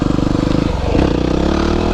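Yamaha WR250R dual-sport motorcycle fitted with a Power Commander revving hard in second gear for a standing wheelie on an abandoned mountain road in Japan, a loud close engine roar that pulses and then climbs steadily as it accelerates.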